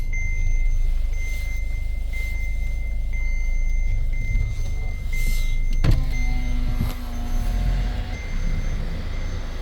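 A 2015 Kia Carnival's electric window motor whirs steadily as the glass rises, followed by a sharp thunk as it seats, then a quieter hum continues with faint background noise.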